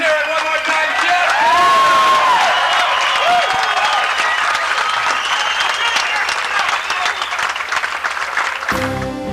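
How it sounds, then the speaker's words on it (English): A crowd at a bicycle race awards ceremony in Bisbee bursts into loud, continuous applause and cheering, with whoops and shouts over dense clapping that lasts about nine seconds before cutting off. "Let's hear it one more time, Jeff!"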